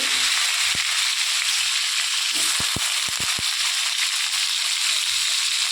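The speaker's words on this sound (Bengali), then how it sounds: "এবার আমি কড়াইতে একটু তেল দিয়ে নিয়েছি, নিয়ে তেজপাতা, শুকনো লঙ্কা আর জিরে ফোড়ন দিয়ে প্রথমে আলুগুলোকে দিয়ে দেবো।" Oil hisses steadily in a pan with bay leaf, dried chilli and cumin, with a few sharp pops and crackles from the spices as potatoes go in. The sizzle stays loud and continuous.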